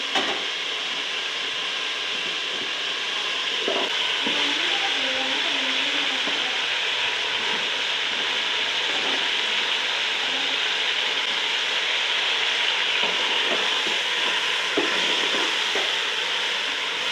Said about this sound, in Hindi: पंजों को मैं अभी मसाले में तकरीबन 5 से 6 मिनट भून लूँगी।